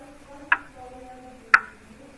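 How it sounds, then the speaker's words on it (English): Two sharp, evenly spaced tick-like clicks about one second apart mark a steady, unchanging musical beat. Each is crisp and isolated over a faint background. "The beat of a piece of music is, by itself, kind of boring."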